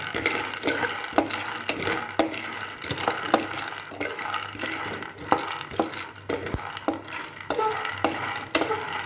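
Bhindi (okra) fries over low gas while a spatula stirs and scrapes the pan in steady repeated strokes, a soft sizzle running underneath, close and alone.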